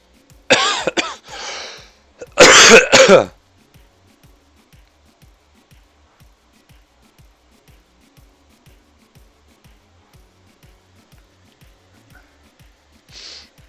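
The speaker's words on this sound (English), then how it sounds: "Coughing, sorry." Two harsh coughs burst out close by, then a faint regular ticking continues in near silence, ending with a brief soft noise.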